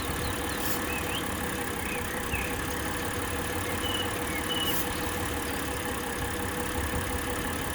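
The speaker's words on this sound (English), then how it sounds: "And you see the engine start shaking up, right?" A V6 engine of a 2000 Mitsubishi Pajero 4WD idles steadily with a faint uneven shake from an intake manifold leak, a continuous close mechanical rumble with no talking.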